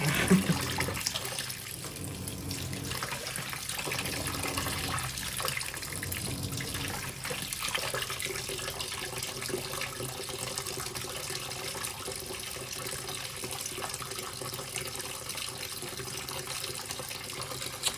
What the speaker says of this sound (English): the last part of the cold fill for the warm wash is a hot top off to temper the cold water